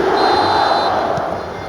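A stadium crowd in the eFootball video game roars and calls out loudly as one continuous wash of noise during a Barcelona match, with no commentary over it.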